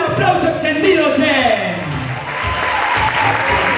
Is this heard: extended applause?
yes